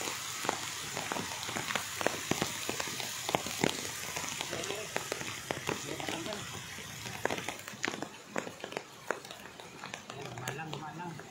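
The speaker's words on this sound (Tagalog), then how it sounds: "Dumaan lang ang ulan." Rain falls beside a river, a steady hiss scattered with sharp drop impacts and crackles close by, moderately quiet and continuous, with people talking faintly in places.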